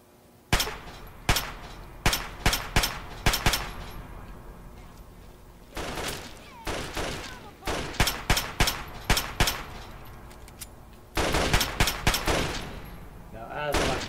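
Gunfire in Fallout 3 on Xbox, loud sharp shots fired in rapid bursts and volleys separated by short lulls, with steady background game ambience.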